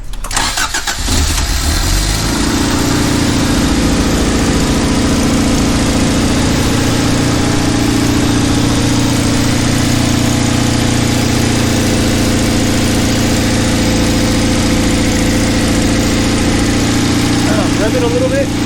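Toyota AE86 starting up: a short cranking burst catches into a loud, close, steady idle that drones on with a slight lope, while voices talk faintly in the background.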